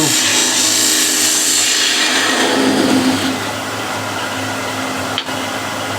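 A wood lathe spinning a reversed bowl while a skew chisel trims the tailstock mark, a loud continuous whirring and cutting hiss that eases off partway through, ending with a brief knock.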